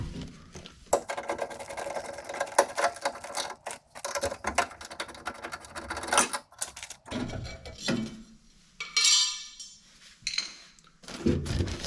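Phillips screws being backed out of a metal crossbar inside a Grand Wagoneer side window area, busy rattling and clicking of a driver or tool against metal with clinks and bursts of mechanical whirring, close and alone.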